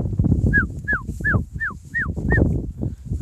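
A Kelpie gives a run of about six rising, high-pitched whimpering yelps close by, spaced evenly, over low rumbling background noise.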